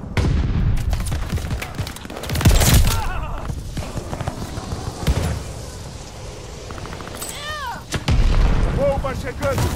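Bomb blasts landing in a Call of Duty Vanguard multiplayer match on the Pacific island of Gavutu, heavy booming impacts and crackling gunfire rolling through the whole stretch, with a big hit early on and another near the end, under game chatter.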